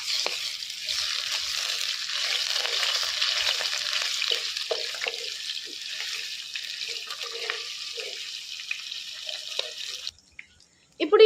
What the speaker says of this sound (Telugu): ఈ అల్లం వెల్లిగడ్డ పేస్ట్ పచ్చివాసన పోయేదాకా వేయించుకోవాలి.